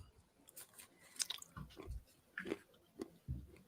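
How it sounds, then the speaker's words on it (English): Peanuts being munched close to the microphone, a run of crunchy chews and bites coming in short bursts with gaps, no talking over them. "can you hear me munching my peanuts?"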